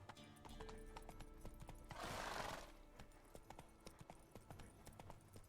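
Roach, a horse in The Witcher 3 video game, gallops with quick, steady clip-clop hoofbeats under game music, with a short burst of brighter noise midway through.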